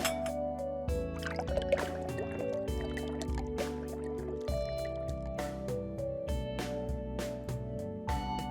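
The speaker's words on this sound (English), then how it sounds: "takes out a new teacup without a moment's confusion, and pours a fine rose-colored tea" Tea being poured into a teacup in a visual novel game gives a steady liquid fill with drips, playing under continuous background music.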